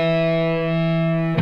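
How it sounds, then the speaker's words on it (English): A held electric guitar chord with heavy distortion from a guitar lesson buzzes loud and steady, rich in harmonics, and cuts off with a quick pick scrape at the end. "So there's where you get that heavy distortion sound."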